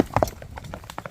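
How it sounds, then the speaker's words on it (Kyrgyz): A horse running on a road, its hooves giving a quick run of uneven clip-clop strikes, close and fairly clear over a short stretch. "Жүгүрүп ат экен бирок."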